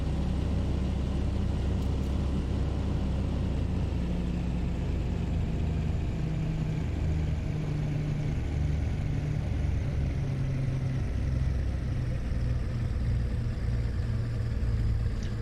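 Cessna 337 twin-engine aircraft in Microsoft Flight Simulator idling at 1000 RPM, a steady low droning rumble with even throbbing that holds constant throughout, close and continuous with no speech.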